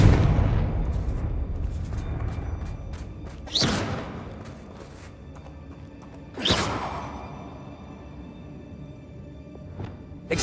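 Confringo blasting spells burst in Hogwarts Legacy inside an abandoned mine, with three sharp explosive cracks at roughly three-second intervals over a low, rumbling game ambience, the middle blast strongest and each decaying quickly.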